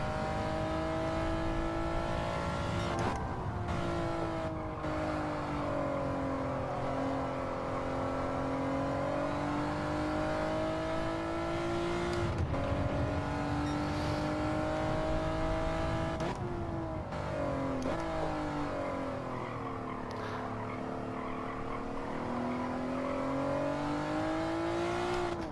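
A race car holds a steady engine drone through a time trial lap, pitch rising and dipping with throttle lifts and brief gear-change breaks, loud and continuous with no talk.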